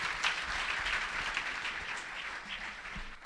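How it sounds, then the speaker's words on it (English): A conference audience at a tech talk applauds the speaker, with steady, fairly faint clapping that fills the whole moment without a break. "We can give him a round of applause."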